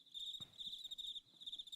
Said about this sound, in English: Shit, crickets.